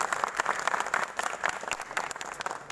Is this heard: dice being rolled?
no